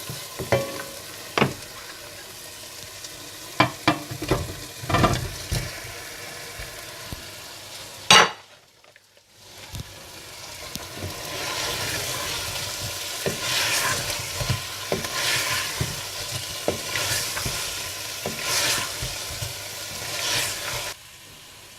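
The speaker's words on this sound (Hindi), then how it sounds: "अच्छी तरह मिलाने के बाद आप इसमें फ़िश डालकर मिला लें।" Fish pieces are stirred into biryani masala frying in a pot, with repeated scraping and clattering stir strokes over a continuous sizzle and a brief quiet gap partway through. No one speaks.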